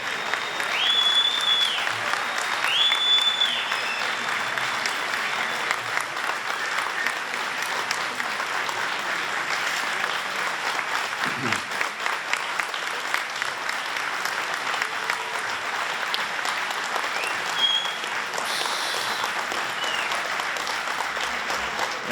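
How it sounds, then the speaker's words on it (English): Sustained applause from a standing ovation fills a large gala banquet hall of over 800 people at a siyum celebration, a dense, steady wash of clapping that carries on throughout with faint whistles and voices mixed in. "Standing ovation."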